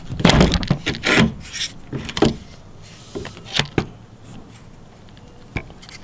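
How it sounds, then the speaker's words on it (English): A plastic interior trim panel is pried and pulled free inside a Toyota Sienna minivan, giving close scraping, creaking and sharp clip pops in irregular bursts, then quieter rubbing. "we go ahead and just pull this plastic out"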